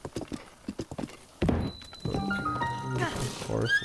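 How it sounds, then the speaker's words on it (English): Horse hooves clip-clop in The Legend of Zelda: Breath of the Wild, a quick run of crisp hoofbeats giving way to a loud, tonal horse whinny and game sounds, close and prominent. "this horse is just going all over the place right now"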